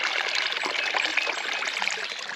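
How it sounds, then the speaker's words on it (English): Water steadily trickles and splashes out of a field drainage tile outlet into a ditch, a continuous close bright babbling flow with no other sounds. "All the water coming out."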